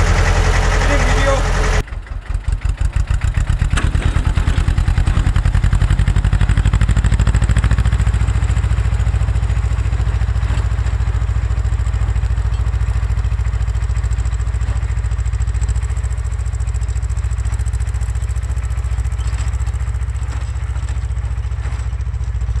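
A farm vehicle's engine rumbles loudly and continuously while driving after a brief start, a steady heavy drone with faint rattling throughout.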